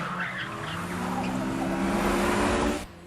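An Evo 6 accelerating hard out of corners in a racing video game, its engine roaring steadily with tire squeal layered over it for about three seconds before cutting off abruptly.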